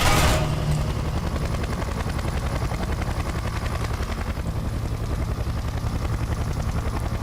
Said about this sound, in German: Scheiße, wir haben einen Hubschrauber